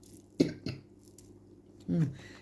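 A couple of short, sharp coughs close to the microphone, followed by a throaty rasp, with light room noise in between.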